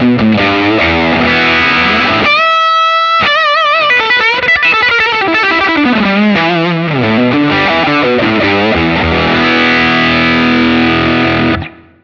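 Electric guitar played through the Ventoux amp model on a Line 6 Helix, dialed to an edge-of-breakup tone: loud, lightly distorted chords and single-note runs with a brief clean harmonic chime, ringing continuously before stopping abruptly.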